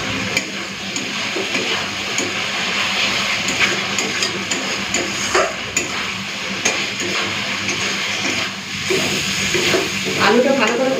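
Boiled potatoes being fried in a pan of spice masala with salt, for a fish-and-vegetable curry meal; a steady close sizzle and hiss runs throughout with occasional stirring clinks.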